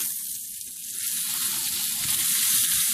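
Steaks sizzling steadily in a hot pan, partway through cooking on the first side, with a dense, continuous hiss of frying fat and no talking.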